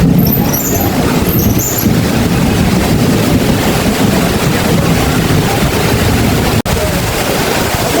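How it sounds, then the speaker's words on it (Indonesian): Heavy rain lashes down with strong wind in a constant loud, dense roar that holds evenly throughout, broken once by a brief sharp dropout near the end. "hujan gede banget"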